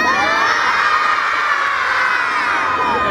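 A crowd of children shouts loudly together at a town Christmas tree lighting in Chop, a dense, sustained roar of young voices holding steady for several seconds.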